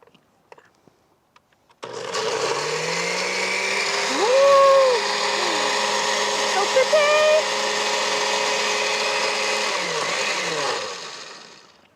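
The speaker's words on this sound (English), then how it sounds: "then you just blend that until smooth" A countertop blender whirs loudly for about eight seconds, blending a lemonade berry cocktail mix until smooth, its motor pitch dipping and rising as it works, then winding down, with a voice briefly heard under it.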